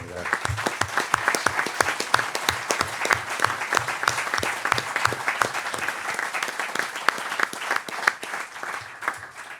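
An audience claps steadily and densely in tribute to a man at a library book presentation about the SEAT strike, with close individual claps over a sustained crowd applause throughout.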